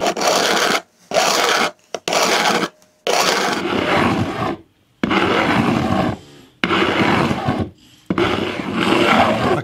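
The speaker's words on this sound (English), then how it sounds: "I'm going to basically rub it with this file until I start to rub on the wood" Metal file rasping across guitar fret ends on a scratch-built guitar, loud close strokes in repeated bursts separated by short pauses, the scraping growing steadier in the later strokes.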